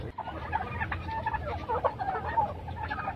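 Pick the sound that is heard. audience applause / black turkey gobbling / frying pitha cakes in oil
black turkey gobbling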